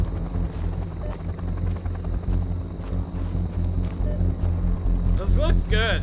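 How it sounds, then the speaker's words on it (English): Helicopter in the video game They Are Here, a steady rotor and engine drone running continuously throughout, with voices talking over it. "There's the helicopter."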